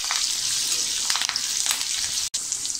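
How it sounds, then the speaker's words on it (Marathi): Asafoetida sizzles in hot oil for Maharashtrian pithla, a bright, close crackle under short scraping stirs, steady and loud across the whole moment with no voices. "थोडा हिंग टाकायचा आहे. हे आपल्याला छान असं थोडंसं ढवळून घेऊया."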